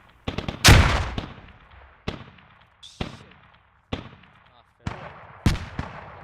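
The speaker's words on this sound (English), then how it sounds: "You can hear BTR firing in long over there." An armored BTR vehicle fires from long range in a war video game, its shots arriving as separate, distant booming reports every second or so, each trailing off in a long echoing tail.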